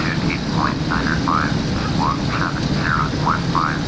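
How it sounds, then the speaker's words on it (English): A small airplane sits on the runway preparing for takeoff in Microsoft Flight Simulator X, its steady engine rumble droning throughout, with faint chirping tones overhead. "looks like there's another plane getting ready to take off"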